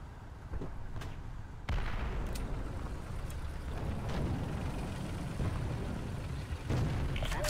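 Artillery fire in the War Thunder video game, with a sudden heavy boom followed by sustained rumbling and scattered distant impacts, plus another blast near the end.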